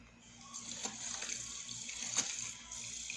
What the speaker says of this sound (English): So now we can mix it with this mixer for coffee.